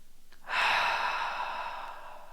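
A single deep, slow breath drawn in a guided diaphragmatic breathing exercise, a long airy exhale swelling quickly and then tapering gently over about two seconds, close and soft, with no talking.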